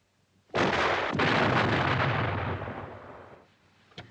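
A tank cannon fires a single loud, close blast at an enemy anti-tank gun, followed by a long rumbling roar that slowly decays over several seconds, with a faint click near the end.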